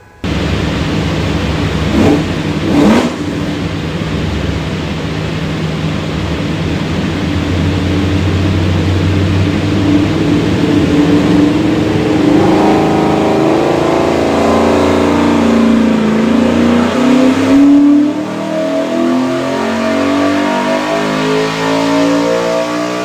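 A Borla stack-injected Coyote V8 with FuelTech EFI and a Moroso oil pan on a dyno at Prestige Motorsports, idling roughly before climbing in one long, loud pull, then cutting back off.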